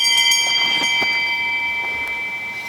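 A bell rings in a youth theatre stage performance of Macbeth, with bright, sustained metallic tones and a few softer struck hits that slowly decay, clear and alone with no talk.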